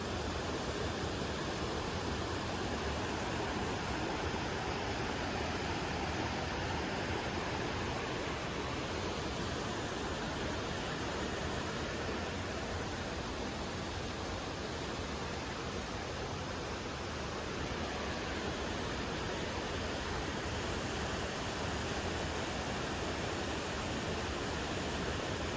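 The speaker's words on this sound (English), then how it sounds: "This is the real waterfall I have ever seen, like a remote rainforest." La Paz waterfall in the Costa Rican rainforest, a constant broadband rushing roar of falling water, steady and unbroken, close and alone with no voices.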